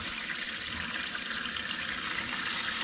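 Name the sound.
cold water running from a tap in a van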